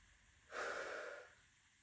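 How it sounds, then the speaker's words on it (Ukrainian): A single slow exhale during a breathing exercise, a soft airy rush lasting under a second, close and quiet against near silence. "Видих."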